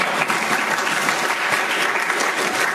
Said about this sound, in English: We don't have time for applause, unfortunately, so we'll move straight on.